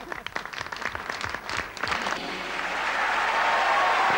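An audience breaks into applause after a brief voice, the clapping swelling and growing steadily louder over a few seconds.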